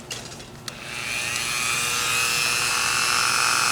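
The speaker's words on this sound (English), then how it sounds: "it is excellent for this kind of work, to drill the little holes and things like that." Small rotary drill boring little holes in hand-carved wood for a whittled figure, a steady high whine that revs up after a brief start and holds loud and continuous.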